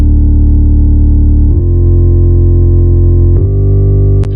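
A filthy dubstep yaya synth patch built in NI Massive, a loud, distorted wobbling bass tone held steady with two sharp changes in timbre, followed by a click near the end.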